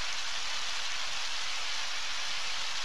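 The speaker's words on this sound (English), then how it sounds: "Ah, it's raining." Steady rainfall in the video game Undertale, a dense, even hiss of falling rain that stays constant throughout with no talking.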